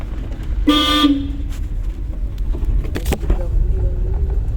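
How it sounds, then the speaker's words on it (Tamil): A single loud car horn honk, about half a second long, from a driving-school car during a lesson, over road and engine noise, followed by faint rattles. "ஹார்ன் அடிக்கணும்."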